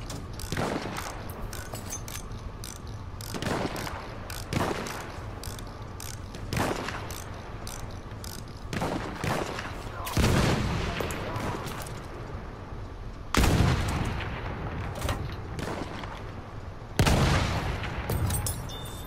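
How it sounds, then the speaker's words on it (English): Rapid bursts of enemy machine-gun fire in a Battlefield 1 battle, beside a heavy tank, repeat in loud clustered volleys across the scene, punctuated by sharper booms. "There, enemy machine gun."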